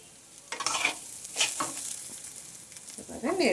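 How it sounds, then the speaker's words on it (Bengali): Gobindobhog rice with cashews and garam masala is stirred in a frying pan, producing scraping, rustling sweeps of grains against metal over a faint sizzle, with a short clatter near the end. "এবারে চালগুলো সব দিয়ে দিলাম, দিয়ে একটু নেড়ে নেব"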